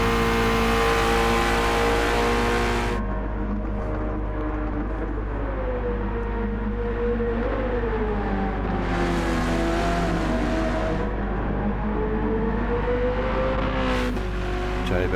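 Gran Turismo 7 race cars at the Suzuka circuit, engines droning loud and close with rising and falling revs through gear changes, as other cars sweep past with brief roaring surges.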